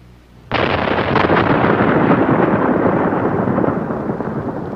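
A single explosive detonation of 61 shot holes blasting out craters at Flagstaff, Arizona: a sudden loud broadband boom that rolls on as a sustained roar and rumble, slowly fading over several seconds.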